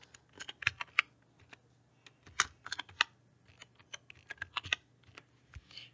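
Quick, uneven keystrokes clatter on a computer keyboard, close and fairly quiet, in scattered bursts with brief pauses, while someone types text into a form.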